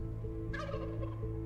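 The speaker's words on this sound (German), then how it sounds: "Und der Gockel lacht nur." Rooster laughing in the video game Stay, a single short cackling call over a steady hum of game music, heard alone with no talk.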